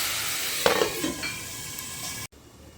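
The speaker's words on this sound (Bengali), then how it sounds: "চলো খুব সুন্দরভাবে ভেজে নিচ্ছে" Goat meat curry with tomato, salt and oil frying in a pan, a steady close sizzle with a few brief stirring scrapes early on, cutting off abruptly near the end to a quieter hiss.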